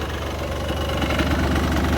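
A 2005 Yamaha Blaster ATV idles close by, its small engine putting out a steady, slightly knocking putter for about two seconds with nothing else heard.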